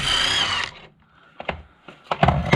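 A power tool whizzes a ball joint nut off the suspension arm of a MK4 Golf, a dense loud burst for about two-thirds of a second that then cuts out, followed by sparse knocks and clanks nearby.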